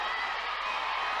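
A wrestling event crowd sends up a steady roar of cheering and noise, filling the arena evenly and without breaks.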